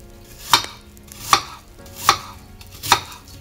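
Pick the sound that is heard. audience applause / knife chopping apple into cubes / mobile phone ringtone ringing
knife chopping apple into cubes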